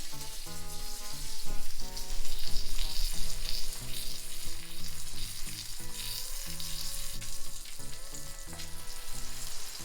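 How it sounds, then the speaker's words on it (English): Grilled cheese and two Eckrich breakfast smoky links fry together in a pan, giving a steady sizzle beneath prominent background music, with no one speaking. "put these two Eckrich breakfast smoky links face down at the same time that you're cooking your toasted cheese"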